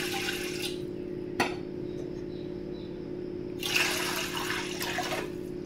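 Two glasses of water pour into a pot for ragi porridge, a steady liquid rush with a brief clink partway through.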